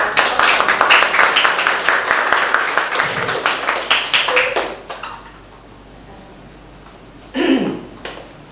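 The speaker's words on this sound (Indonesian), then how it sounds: "beri tepuk tangan buat" Audience applause at a Bible scripture course session, a dense run of clapping for about five seconds that thins out and stops, followed by quiet and a brief voice.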